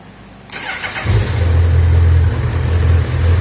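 A Honda CB 1000R motorcycle engine starting: a starter whirr, a catch, then the engine settles into a loud, close, deep steady idle with a slight dip near the end.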